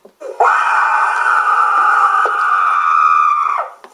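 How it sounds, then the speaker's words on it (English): A long, loud, sustained scream in a video game, one continuous high-pitched wail that holds for about three seconds before cutting off, with no talk over it. "Stop screaming!"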